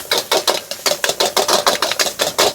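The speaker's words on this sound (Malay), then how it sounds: "Sebenarnya kalau lagi ketuk lagi kuat, bunyi lagi kuat, lagi sedap nasi goreng tu." Metal spatula rapping against a wok while nasi goreng fries at a roadside street-food stall in Kluang, Johor: fast, steady, loud clanging knocks, about four per second, close by with no talking.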